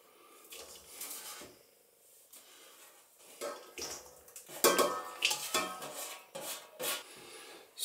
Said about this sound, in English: So, get that into the mixing bowl.